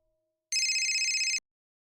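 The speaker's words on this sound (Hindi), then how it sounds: "बात कर रहे तेरे फोन आ गया उसका।" A phone rings once with a bright, trilling electronic tone lasting under a second, loud and close, with silence before and after.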